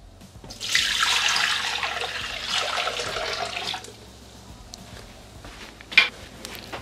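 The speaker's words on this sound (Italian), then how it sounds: "Senza lavare il boccale, mettere l'acqua." Water poured into the unwashed bowl of a Thermomix (Bimby) kitchen machine: a close, steady splashing pour for about three seconds, then quiet kitchen handling sounds and a sharp knock.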